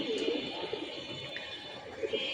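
Pigeons coo softly and repeatedly, low and somewhat distant, over a quiet background hum.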